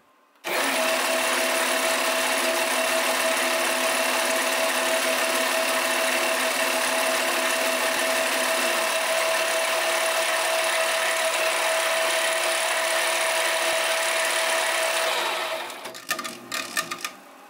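A magnetic transmission under sudden load runs with a loud, steady mechanical whine that holds for about fifteen seconds, then winds down and stops with a few rattling knocks.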